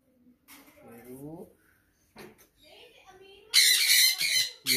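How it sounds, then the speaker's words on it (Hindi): Grey parrot squawking in a village home, harsh bursts rising loud near the end after quieter vocal sounds, with people talking around it. "Grey parrot."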